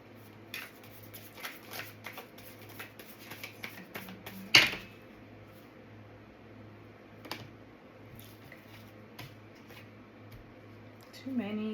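Tarot cards are shuffled by hand with soft, rapid riffling and tapping clicks in irregular bursts, one louder snap partway through, close and fairly quiet.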